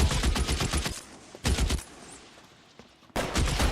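Rapid bursts of enemy gunfire in the video game LA Noire, three loud clusters of close shots separated by short quieter gaps with lingering reverberant tail.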